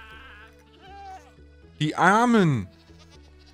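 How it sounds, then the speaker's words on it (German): A screaming goat in the Minecraft video game lets out one loud, drawn-out wavering bleat in the middle, over quiet game music, with someone speaking briefly just before it. "Alle meine schreienden Ziegen"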